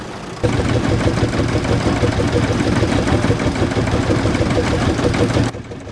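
A Fordson E27N tractor engine at a tractor show runs steadily at a loud, close idle, a constant low rumble that cuts off near the end.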